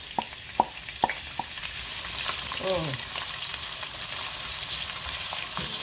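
Onions fry in hot avocado oil in a pan, a dense, steady sizzle throughout, with a few sharp clicks of utensil contact early on and no voices.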